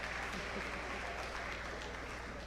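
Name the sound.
audience applause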